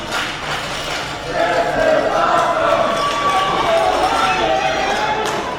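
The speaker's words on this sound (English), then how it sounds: "The crowd chanting, this is awesome" Wrestling crowd at a Reality of Wrestling main event, a large audience roaring and chanting in steady rhythm, loud and sustained throughout, swelling after the first second.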